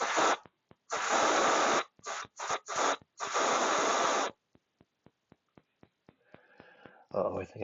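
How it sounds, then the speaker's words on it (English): Several bursts of deodorant aerosol spray hissing close by, long and short sprays separated by pauses, with clicks and rustling afterward. "I'm looking for my deodorant spray."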